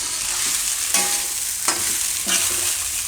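Sweet poha with dry fruits and coconut is stirred in a pan over a low flame, spatula strokes scraping roughly three times over a steady soft sizzle.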